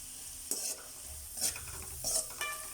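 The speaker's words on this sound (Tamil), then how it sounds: "வெங்காயம் நல்லா வதங்கினதுக்கப்புறம் பீன்ஸ் போட்டுக்கணும்." Onions and beans sautéing in a pan for kottu chapathi, a quiet sizzle with a few bursts of stirring and scraping from a spoon against the pan, close up and without talk.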